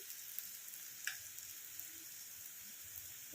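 Garlic sizzles in hot oil with browned onions in a pan for one-pot chicken pulao, a steady faint frying hiss with small pops and a few soft stirring clicks, no voices.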